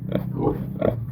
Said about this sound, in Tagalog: Ito yung baboy ni Bibi May.